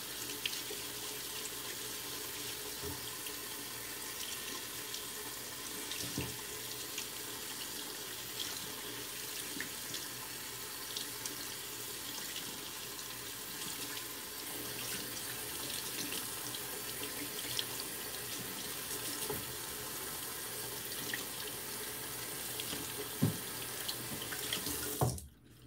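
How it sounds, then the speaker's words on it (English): Tap water runs steadily into a sink while a shaving brush is rinsed under it, a continuous close splashing stream lasting throughout with small irregular splatters, ending abruptly as the flow stops. "Let me rinse out my brush real quick"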